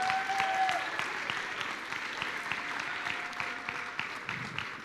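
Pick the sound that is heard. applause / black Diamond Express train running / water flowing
applause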